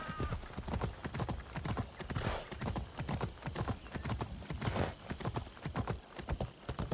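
A horse in Assassin's Creed Shadows clip-clops steadily up a flight of stone steps, its hooves striking in a brisk, even rhythm that is close and clear, with no talking over it.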